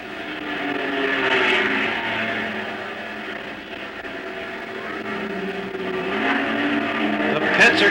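A 1956 Ferrari race car at Sebring pulls away from the pits, its engine a steady droning hum that swells and fades and rises again near the end, heard at some distance amid general circuit noise.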